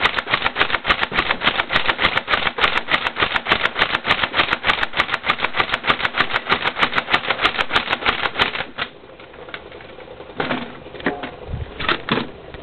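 Nerf blaster rapidly firing foam darts from a drum clip in a basement target range, a fast steady stream of sharp mechanical clacks for about eight seconds, then the firing stops and a few scattered clicks and handling noises follow.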